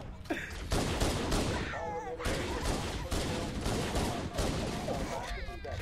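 Rapid gunfire in Halo: Combat Evolved Anniversary, several loud bursts of automatic shots separated by brief gaps and close to the listener.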